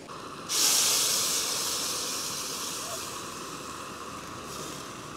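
Broth poured into a hot pan for a chicken and rice dish, bursting into a loud sudden hiss of steam that slowly fades to a softer, steady sizzle.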